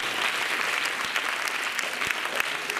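An audience at a state dance competition applauds children's dance performance, a steady wash of many hands clapping continuously, fairly loud and without speech.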